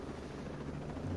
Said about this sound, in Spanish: Vamos a parar por aquí a ver si no destrozamos el helicóptero.